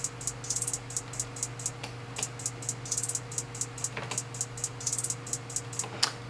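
A reversed hi-hat pattern in a beat, with quiet, swelling ticks in a steady rhythm over a low, sustained backing tone.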